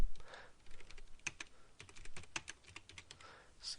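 Fingers tap out numbers on a computer keyboard, a run of crisp, close keystrokes in an irregular rhythm with short pauses between bursts, and no talking.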